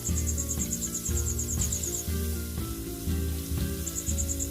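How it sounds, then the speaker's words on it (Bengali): Koi fish frying in hot oil for a cauliflower koi curry, giving a steady, dense crackling sizzle close up that runs the whole time under rhythmic background music. "দেখুন, মাছগুলো ভাজা হয়ে গেছে, এইগুলো তুলে নিচ্ছি"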